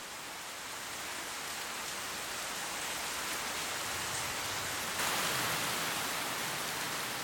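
Rain falls steadily as a dense, even hiss, growing slightly heavier partway through, with no voices.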